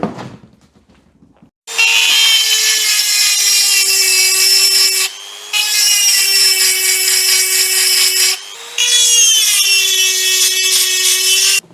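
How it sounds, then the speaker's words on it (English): Angle grinder cutting grooves into a gear from a 3D printed race engine, a loud close high-pitched whine in three long sustained runs, each briefly dropping off between cuts. "Let's get the grinder out and have a go."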